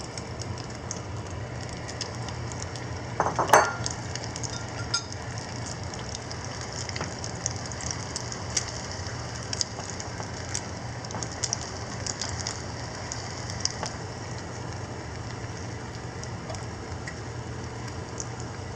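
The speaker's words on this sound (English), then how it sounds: "So now I can feel the pan is already hot. Then let's put the eggs into the pan." Beaten eggs for a Thai omelette fry in a hot pan with a constant, rain-like crackling sizzle, punctuated by scattered pops and one sharper spatter near the start, with no voices.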